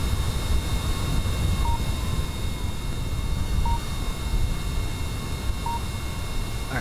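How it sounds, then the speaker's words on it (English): Loud rocket engines roar in a video game, a steady droning rumble that holds for several seconds with faint periodic beeps above it and no talking. "I can technically shut down the engines because they're really, really loud."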